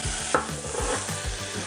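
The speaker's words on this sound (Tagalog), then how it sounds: "Gigisa natin yung garlic" Garlic sautéing in preheated oil in a small saucepan, a steady close sizzle with repeated low stirring scrapes and a brief clink, no talking.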